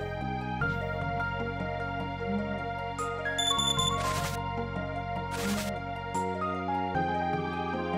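Bright chiming bell tones ring out from Chrono Trigger, layered over steady game music, with two shimmering bursts in the middle of the passage and a clear melodic ding sequence throughout.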